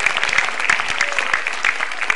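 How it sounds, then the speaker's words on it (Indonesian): Audience applause at a MetroTV stand-up comedy show, a dense, steady wash of clapping from a large crowd, loud and continuous throughout without a break. "Tepuk tangan buat Metro TV."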